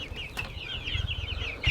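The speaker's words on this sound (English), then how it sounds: "We have 60 broiler chickens" Young broiler chickens about three weeks old clucking and peeping softly at close range on a small homestead, a busy overlapping chatter with a brief louder flutter near the end.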